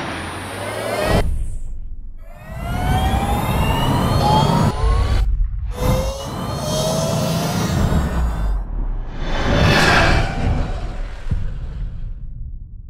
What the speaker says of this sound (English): What you just heard is the F77 Mach 2.